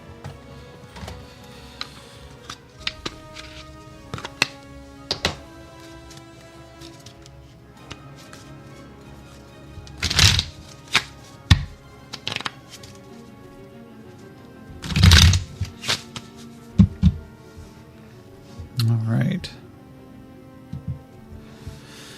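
Two decks of playing cards are shuffled by hand, giving sparse ticks and soft riffles punctuated by a few sharp, louder bursts of rapid flicking, with no voices.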